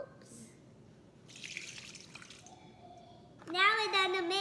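Water is poured into a bowl to make slime, a faint trickle and splash followed by a voice speaking near the end.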